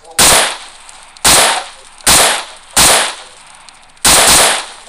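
Five loud, sharp gunshots from the PUBG battle royale game, spaced roughly a second apart, each a crisp crack with a short decaying tail, close and alone without talk.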